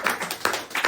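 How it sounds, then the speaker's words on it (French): A few distinct hand claps, spaced irregularly over a second, come from an audience at a French presentation event, close and moderately loud with no talking. "Félicitations, je pense qu'on peut applaudir."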